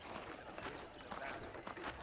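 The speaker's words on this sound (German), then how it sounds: "let's see if you can still ride a horse" Horse hooves clip-clopping in Red Dead Redemption, a faint, busy patter of steps blended into steady game ambience, with talk-like noise mixed in.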